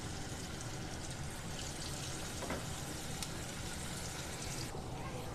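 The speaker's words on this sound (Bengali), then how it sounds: "ম্যারিনেশন করে রেখেছিলাম যে 65-এর চিকেনগুলো এবার আমি ফ্রাই করে নেব।" Marinated chicken 65 pieces frying in hot oil, giving a steady, dense sizzle that holds at an even level from start to finish, with no voices.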